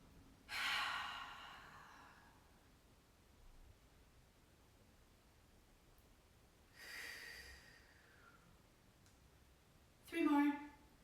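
Slow, audible breaths drawn in and let out while holding a seated yoga pose, three separate breaths spaced a few seconds apart, fairly close, with quiet stillness between them.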